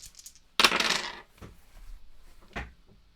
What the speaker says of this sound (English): So the dice go back in here